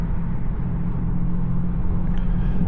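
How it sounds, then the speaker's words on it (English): Steady low road and tire roar from a 2024 Tesla Model 3 Performance on the move, a continuous broadband rumble heard from inside the cabin with no talk over it. "Yeah, the tires are making a bit noise"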